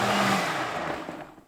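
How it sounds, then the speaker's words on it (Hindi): A kitchen blender whirs steadily while pureeing cooked tomato mixture into a smooth paste for butter chicken, a brief continuous grinding drone that tapers slightly. "अब इसको हम अपने ब्लेंडर में डाल के एक स्मूथ सी पेस्ट बनाएंगे।"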